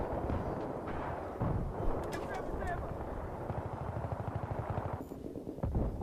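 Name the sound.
PKP machine gun firing in Battlefield 3 video game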